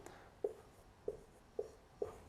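Handwriting during a maths lesson, soft pen taps and strokes repeating about every half second, faint and close with a quiet room hum underneath.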